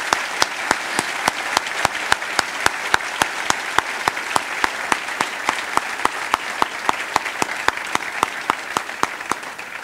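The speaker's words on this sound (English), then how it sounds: "I wish you'd all give them a round of applause." Applause from the audience at a gubernatorial debate for the candidates, steady clapping in the hall with one close, loud clapper striking a regular, rhythmic beat throughout.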